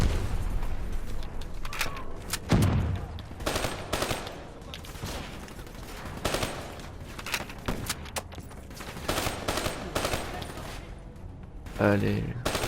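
Bursts of automatic weapon fire in the video game Black Ops 3, repeated rapid volleys with occasional heavier booms, loud and close, with someone talking in between.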